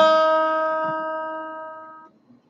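One plucked guitar note on the open first string, E, rings out clearly and fades slowly over about two seconds before being damped, with a faint soft noise afterward.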